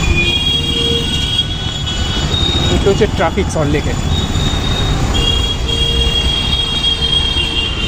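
A train passes close by, a loud rumble of rolling wagons with squealing wheels peaking midway, while people talk over the noise.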